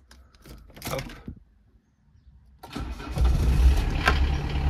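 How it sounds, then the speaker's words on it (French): A car engine cranks with a few sharp starter bursts, pauses, then catches and settles into a steady, fairly loud idle close by, with no talk over it. "j'ai démarré le véhicule et puis on va observer, toi et moi."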